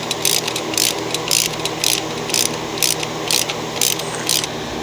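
Ratchet wrench working hex bolts loose from the transmission pulley of a Lawn-Boy Duraforce mower, rapid loud clicking in regular bursts close by, with no talk.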